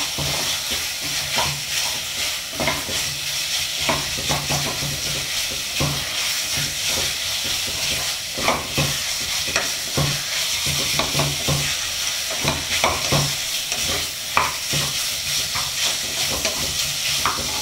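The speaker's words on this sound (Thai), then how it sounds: "ผัดให้หอมนะครับให้มันจากเนื้อออกมาด้วยนะ" Beef stir-frying in a pan for a red curry with cumin leaves: a steady loud sizzle throughout, broken by frequent scraping and clattering strokes of a spatula against the pan, close and continuous with no talk.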